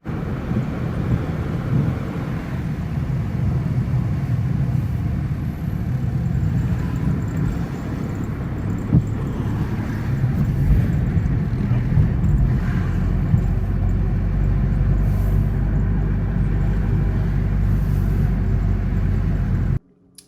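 A car driving, recorded from inside the cabin: a steady low road and engine rumble with faint wind noise runs continuously and evenly, with no talk, then cuts off abruptly at the end.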